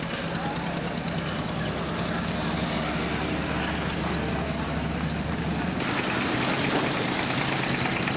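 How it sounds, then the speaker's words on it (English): A small diesel tractor used as a family vehicle in Kunming, China, idles with a steady low chugging rumble, close and continuous, with a slight shift in tone near the end. "There's one of the famous little diesel tractors, used as a family car in this part of the world."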